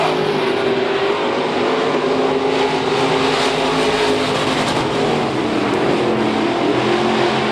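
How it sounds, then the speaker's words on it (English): IMCA Sport Mod stock cars roar continuously around a dirt track on the final lap of a heat race, a dense, loud blend of engines with no break in the noise. "1 lap to go here in your third and final Sport Mod heat race."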